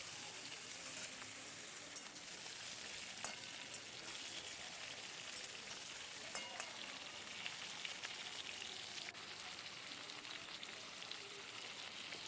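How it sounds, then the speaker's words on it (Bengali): Eggplant frying with softened tomato in a pan for a vegetarian drumstick dish, a faint, steady sizzle with scattered small pops and crackles. "বেগুনটা ভালো করে ভাজবো।"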